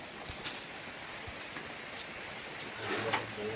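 Steady rain falls outside a house, a continuous even wash of hiss that grows slightly louder toward the end, with a few faint scattered knocks and no voices.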